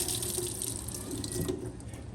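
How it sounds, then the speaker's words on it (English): Water rushing steadily from a tap into a container, a loud, continuous splashing flow that eases slightly near the end, with no one talking. "you guys can see me filling up the container of water"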